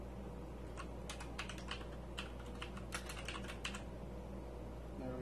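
Typing on a 1st Player Black Sir LED gaming keyboard, a quick run of crisp, close key clicks in uneven bursts, then the clatter stops and only a faint background hum remains.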